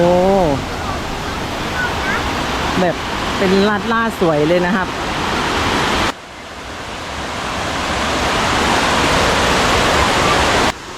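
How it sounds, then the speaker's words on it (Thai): Rushing water of Pha Charoen waterfall in Phop Phra district, Tak province, Thailand, a loud steady roar throughout; someone talks over it early on, then the roar continues alone. "ถึงแล้วน้ำตกพาเจริญนะครับ จังหวัดตาก อำเภอพบพระนะครับ"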